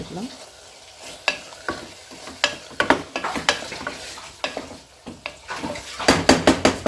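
A utensil scrapes and clacks against a pan of mutton fry in irregular strokes while the food sizzles steadily underneath, heard up close.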